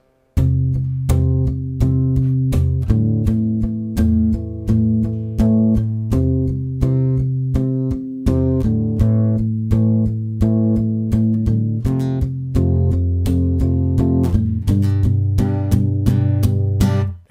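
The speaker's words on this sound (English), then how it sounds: "we're going to do 8 down strums palm muted." An acoustic-style guitar plays palm-muted down strums through the verse chords of a song, steady even strokes in groups, eight per chord, with clear chord changes, close and loud with no talking.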